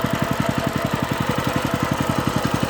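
A walk-behind tractor engine runs while mowing grass down a steep hillside, a fast even loud chugging pulse that holds steady throughout with no speech.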